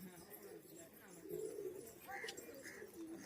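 Giribaz pigeons at a Murshidabad market sale give soft, rolling coos in short repeated phrases, moderately close, while voices chatter faintly around them.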